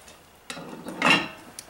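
Peach cobbler stirred in a camp Dutch oven, a few metallic scrapes and knocks of the spoon against the cast iron, close and brief, with quiet gaps between strokes.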